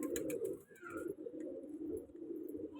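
A flock of pigeons gathered at a loft, with steady soft cooing throughout, close and continuous, plus some light fluttering and rustling near the start.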